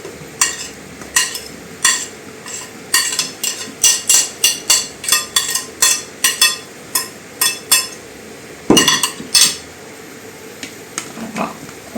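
Leek and ham tart filling stirred in a pan, a spoon or spatula scraping and clinking against the cookware in a steady run of sharp, close strokes, with a brief louder clatter near the end and no talking.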